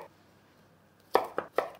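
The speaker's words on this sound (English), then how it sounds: "The broccoli, so I'm just gonna trim it." A knife trims broccoli on a cutting board, three distinct close chops spaced about a quarter second apart after a quiet pause.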